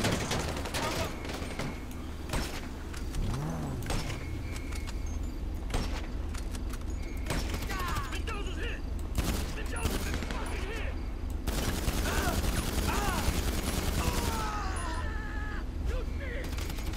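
Rapid bursts of gunfire crackle in GTA 5 Online during a Diamond Casino mission, with repeated automatic volleys and single shots over a busy background, while players talk over the shooting.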